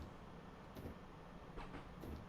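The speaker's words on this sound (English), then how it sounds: "There goes another train going by." A passing train in a Munich to Garmisch-Partenkirchen train simulator game, a faint low rumble with soft rhythmic clatters and brief hissy bursts, heard at a distance.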